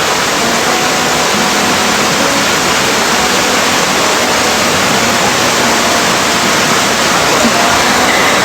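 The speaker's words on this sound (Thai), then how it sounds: "น้ำน้ำที่ไหลมาเนี่ยมันมาจากน้ำตก แม่กำปองนี่แหละค่ะ" A stream fed by Mae Kampong waterfall in Chiang Mai rushes steadily as a loud, unbroken wash of water noise with no pauses.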